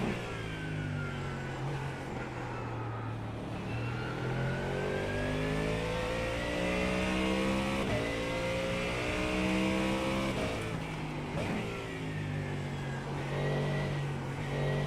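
A car engine revs hard and climbs steadily through the gears while driving fast, loud and close throughout, in a session comparing a twitchy Mustang with a Corvette.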